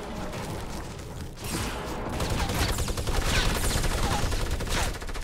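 Fortnite Battle Royale gunfire crackles as a rapid, rattling volley at middle distance, building from a lighter patter into denser bursts of shots across the few seconds, with no talking.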